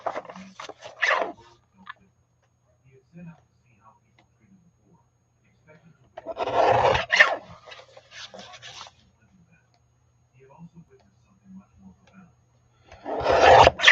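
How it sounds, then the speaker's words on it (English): A paper trimmer slices through paper in three separate rasping, rubbing bursts, each lasting a second or two, with near silence between them. "I'm going to take that and I'm going to trim it down with my trimmer."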